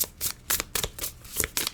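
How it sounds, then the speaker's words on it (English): Tarot cards being shuffled in a run of quick, crisp riffling bursts with short gaps between them, close and fairly quiet, with no talk. "I'm going to pull you some more cards."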